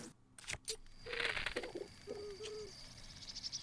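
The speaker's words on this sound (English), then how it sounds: "So we could sneak up on this bird right here." A bird in The Legend of Zelda: Breath of the Wild gives a few low coos in quick succession, following a brief rustle, with a quiet outdoor ambience underneath.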